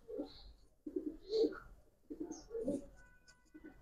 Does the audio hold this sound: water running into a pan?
no